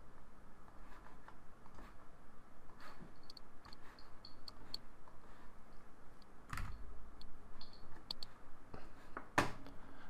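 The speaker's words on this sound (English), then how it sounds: "I can hear everyone clicking." Computer mouse clicks from several people in an online trading session, quiet scattered ticks and taps under a steady background hiss, with a couple of louder clicks near the end.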